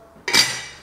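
A metal lid is set onto a pot of boiling water while salt cod is being scalded, giving one sharp clink followed by a short ringing decay.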